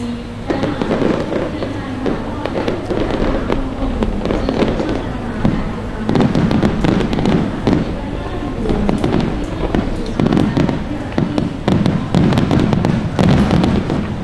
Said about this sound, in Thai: มีพลุเฉลิมพระเกียรติที่สวยงามบนท้องฟ้า